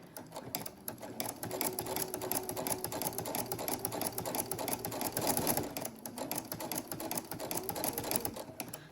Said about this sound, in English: go ahead and stitch forward a few stitches and then reverse back over those same stitches